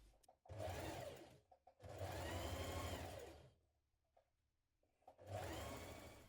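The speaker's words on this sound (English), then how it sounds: "We're now going to stitch that in place" Sewing machine stitching a tunic top seam, running in two long bursts with a shorter third burst starting at the end, steady whirring rhythm with quiet pauses between.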